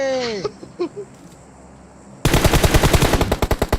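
Rapid automatic gunfire in PUBG Mobile rattles out in a loud, evenly spaced burst of sharp shots, preceded by a few softer game sounds.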